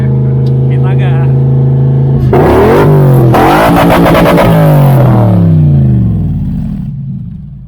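A V8 off-road car with left and right exhausts revs hard close by, a steady idle rising into a rough, climbing rev that peaks and falls back to idle before fading.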